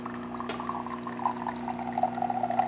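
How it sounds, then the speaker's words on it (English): Water flows steadily from a freshly serviced Jura Impressa S8 coffee machine with a rebuilt brew unit and new O-rings, a continuous trickling splash over a low machine hum, with one sharp click near the start. "we're having excellent water flow coming out of the machine"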